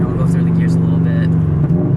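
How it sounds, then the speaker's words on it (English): Subaru BRZ engine running steadily with a low drone while the driver goes up through the gears, a faint whir above it and a voice speaking over the top. "I'll go through the gears a little bit."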